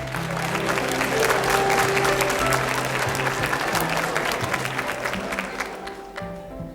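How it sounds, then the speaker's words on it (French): A 1982 French television studio audience gives a contestant on L'École des Fans a long, loud round of applause with faint tonal sounds underneath, and the clapping tapers off near the end. "Qu'on applaudit très fort."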